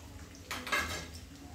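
A utensil scrapes and clinks against a pan while chopped garlic is stirred, giving a few quick, moderately close strokes over low background hum.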